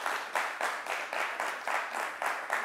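A studio audience applauds a guest arriving on a retro-themed French morning show, with fairly faint clapping that swells in regular pulses, roughly one every third of a second, across the whole stretch.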